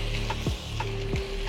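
Chicken pish pash sautés with garlic in a hot pan, a brief, close, steady sizzle broken by a couple of quick stirring scrapes.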